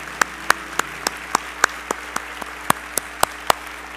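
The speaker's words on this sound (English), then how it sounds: "Let's give him another round of applause." Applause at the Black Engineer of the Year Awards Conference comes through as a string of sharp, evenly spaced claps, about three or four per second, crisp and distinct over a quiet room.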